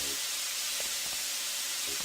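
Steam hissing from a pipe in the Deus Ex game, a steady, even broadband hiss that runs unbroken from start to finish, fairly quiet and alone.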